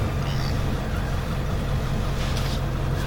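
A Ford 7.3 Powerstroke diesel truck engine runs with a steady low rumble, constant and fairly loud throughout, with no speech over it.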